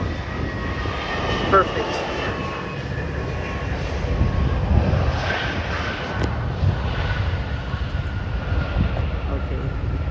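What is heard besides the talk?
JetBlue Airways Airbus A320 jet landing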